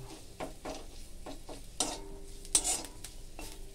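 Ladies finger curry is stirred in a pan, with quiet sizzling broken by a series of distinct spoon scrapes and clinks at a fairly regular pace, one sharper knock near the end.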